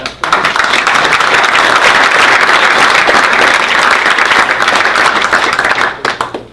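Audience applause at a legislative guest speaker event, loud, dense clapping from a room full of people sustained for about six seconds before tapering off.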